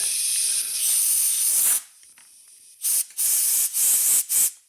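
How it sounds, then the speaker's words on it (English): An aerosol can of contact cleaner hisses in several bursts on a Mazda engine with a poor idle: one long spray, a pause, then four shorter blasts in quick succession, close and loud. "So I'm going to spray some contact cleaner."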